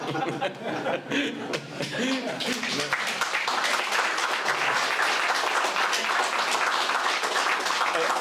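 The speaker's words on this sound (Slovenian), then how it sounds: "Brez dvoma si zasluži aplavz, ja." Audience applause at the opening of an exhibition about the Feldspital 808 military hospital in Pliskovica, with a voice over the start of the clip, then sustained, dense clapping that swells and holds steady and loud to the end.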